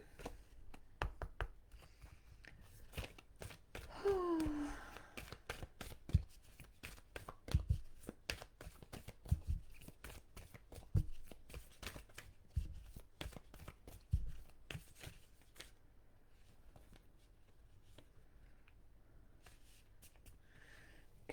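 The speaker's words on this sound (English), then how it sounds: "Katrina, I'm going to do my cards for you." Tarot and oracle cards are shuffled by hand in a quiet room, a long string of faint riffling, snapping and tapping sounds that thin out toward the end.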